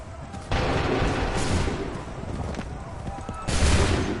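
Musket volleys from soldiers firing on command in the Assassin's Creed 3 video game, with broadband blasts at roughly half a second and three and a half seconds over a constant noisy battlefield wash, and voices calling out amid the din.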